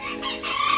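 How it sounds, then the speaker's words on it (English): Backyard chickens cluck and crow loudly and close by through a short burst, with no talking over them. "Don't mind my chickens."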